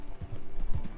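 A few quick video game hoof clops land in a loose rhythm, close and moderately loud, as a horse walks; no voices.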